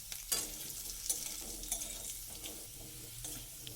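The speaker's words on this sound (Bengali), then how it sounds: "আলুটাকে দিয়ে তেলের মধ্যে একটু নাড়াচাড়া করে নেব" Potato pieces stirred in hot oil in a pan, a soft continuous sizzle with a few brief scraping strokes of a spatula, close and fairly quiet, no talking.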